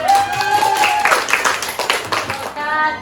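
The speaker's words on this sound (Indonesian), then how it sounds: "Berikan tepuk tangan" A school class claps after a group presentation on buffer solutions, a busy round of hand clapping with a voice speaking over it near the start.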